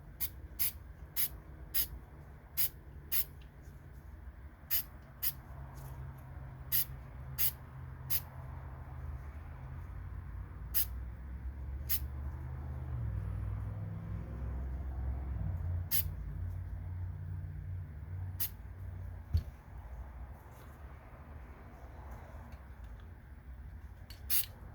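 Aerosol coating sprayed onto a No4 Mk1 rifle in repeated short, sharp hissing bursts, close and fairly quiet, evenly spaced at first and then sparser, over a low background rumble.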